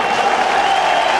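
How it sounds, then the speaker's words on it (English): Football stadium crowd at a 2000 McNeese Cowboys versus Miami Hurricanes college game cheers and applauds a completed pass, a dense, steady roar of many fans filling the whole moment. "And the fans like cheering it"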